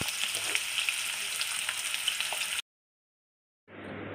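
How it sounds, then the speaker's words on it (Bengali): Okra (ladies finger) frying in hot oil, a dense, bright crackling sizzle heard close for a few seconds, then a sudden silent gap before the frying hiss returns more softly. "ভেন্ডিগুলো ওর ভেতরে দিয়ে ভালো করে লাল করে আমরা ভেজে নেব"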